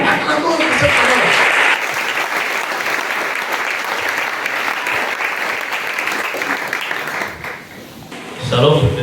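Church congregation applauding during a Sunday service, a dense, sustained burst of clapping that swells at first, then holds steady before fading near the end, with voices mixed in.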